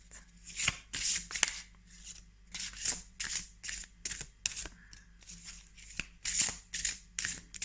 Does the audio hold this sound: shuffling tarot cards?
yes